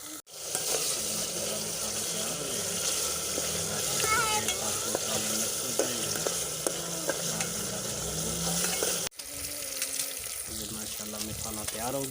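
Onions, tomato, turmeric, garlic and spices fry in a pan for matar gosht with a dense, steady sizzle and occasional stirring scrapes, close and continuous, briefly interrupted near the end.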